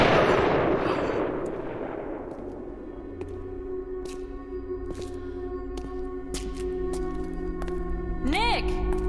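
A gunshot in the video game FBI Confidential opens with a loud close blast that fades into a long decaying tail, followed by sustained electronic tones and a voice speaking.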